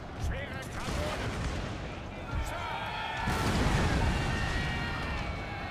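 Heavy cannon artillery from a Thirty Years' War battle in Total War booms repeatedly, with sharp reports and crackling gunfire over a noisy battlefield din, a louder blast landing partway through.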